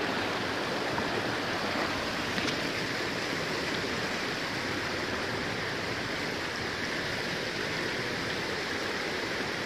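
A waterfall and stream pour steadily in an outdoor setting, producing a loud, continuous broadband rush that stays unchanged throughout with no voices.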